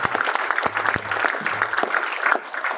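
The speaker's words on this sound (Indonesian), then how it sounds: "Oke, tepuk tangan buat kita semua." Audience clapping breaks out in a room at a group seminar in Makassar, with uneven, fairly close claps from a modest crowd over a couple of seconds.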